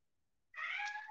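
A domestic cat gives a single clear, drawn-out meow that begins after a moment of near silence and sounds close in a quiet room.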